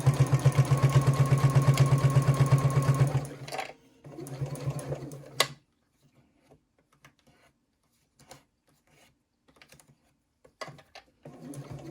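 A sewing machine stitches a fabric wrist strap, running in a steady fast buzz for about three seconds, then a short burst, followed by faint clicks and handling sounds, close by.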